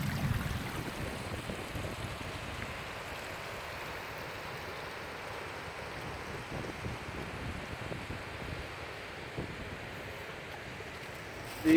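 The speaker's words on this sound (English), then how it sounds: "4x4 track we're following is actually turned into a river" Running water rushes steadily along a 4x4 track in a Highland glen that has turned into a river, a continuous broadband flow mixed with wind buffeting the microphone, with no one talking.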